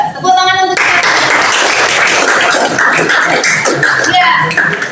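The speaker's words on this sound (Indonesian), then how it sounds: "tepuk tangan untuk" Audience clapping in a classroom-style Islamic teaching session, a burst of many hands that starts after a brief tone and carries on loudly for several seconds, with some voices mixed in underneath.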